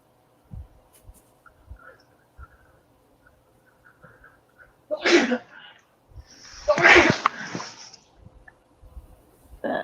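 A person sneezes twice in an indoor room during a casual drawing session, a short first burst followed by a louder, fuller sneeze, close and clear over faint background hum.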